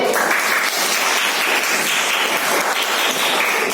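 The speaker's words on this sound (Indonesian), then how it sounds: "Kamu memberi kesempatan tepuk tangan kelompok 1." Students in a classroom teaching practice session applaud the first group after its presentation, a continuous, even burst of clapping from many hands filling the room at full loudness throughout.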